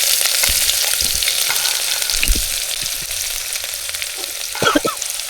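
Onion frying with whole spices, bay leaf and chilli for a veg paneer biryani cooked outdoors at a hill fort, a steady loud sizzle with occasional stirring scrapes and clinks, no talking.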